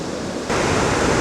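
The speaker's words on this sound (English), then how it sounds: "I think it's amazing how swiftly the water is flowing there." Swift Niagara River rapids rush in a steady broadband roar at Niagara Falls State Park, New York, growing louder and fuller partway through as the flow comes closer, with no voices.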